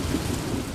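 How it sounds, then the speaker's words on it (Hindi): A heavy rainstorm with rumbling thunder, a dense, steady roar of rain under a low thunder rumble, brief and without pauses. "बारिश और तेज हो गई।"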